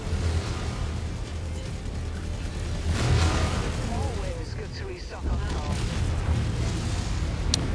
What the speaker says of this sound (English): And the damn marauder keeps shooting through me